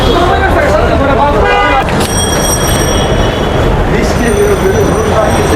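Dhaka metro rail passenger train, a busy commuter line, rumbling loudly and steadily with high wheel and motor tones, amid crowd babble and a person talking over it.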